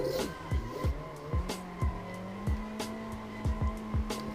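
Car making jump drifts on the Ebisu Minami course in the Assetto Corsa racing game, with a steady engine drone, short repeated tire squeals and thumping landing impacts in an uneven rhythm.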